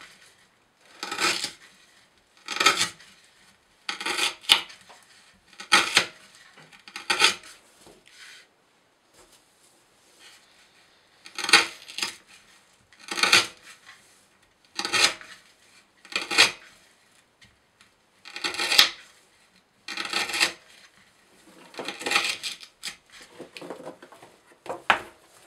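A Kershaw Tilt knife with a Vanax75 steel blade slices through rope in a cramped space, giving a series of sharp, close fibrous crunching cuts spaced a second or two apart, with a brief pause in the middle.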